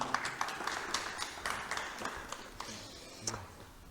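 An audience at an academic session gives a soft, distant round of applause, a thin patter of scattered claps that carries on steadily for a few seconds.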